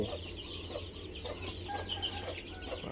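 Clucking chickens with twenty-day-old chicks in a pen, Phanat-line fighting fowl, a steady murmur of soft clucks and cheeps running continuously and close by.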